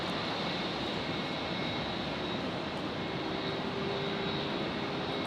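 A Boeing 717 at Brisbane Airport roars steadily and loudly at close range, its jet engine noise dense and unbroken, with a thin high whine running above.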